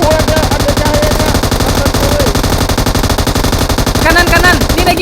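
Rapid automatic gunfire in the mobile battle-royale game PUBG Mobile, loud and continuous bursts throughout, with players talking over the shooting.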